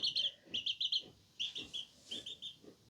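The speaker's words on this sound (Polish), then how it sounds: "Zobacz, jakie głodne ptaszki." Hungry young birds at a farm chirp in quick bursts of high, thin calls, several short clusters repeating at close range with brief pauses between them.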